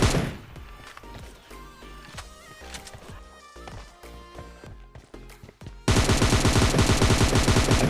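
Gunfire in a battle royale video game, with bursts of rapid automatic shots and single cracks that build to loud sustained firing near the end, with no talk.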